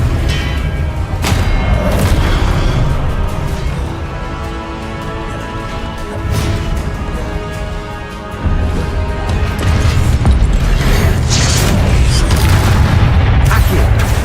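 Incendio and Confringo spells exploding in the Hogwarts Legacy video game, loud deep booms and crashing blasts in repeated waves over a dense rumbling combat background.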